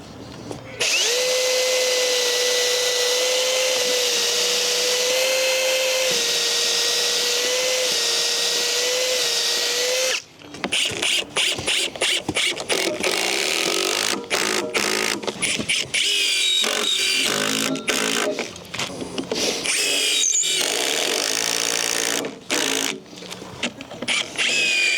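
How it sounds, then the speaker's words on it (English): A power drill drives screws into stair boards during a staircase rebuild, sounding as a steady whine for about ten seconds, then repeated short bursts of drilling and clatter, with people talking nearby. "I'm going to start screwing it from here then."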